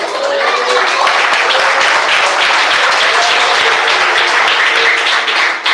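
A church congregation claps together in praise of Jesus during a worship service, steady dense applause filling the whole stretch at close range, loud and continuous with no talk over it.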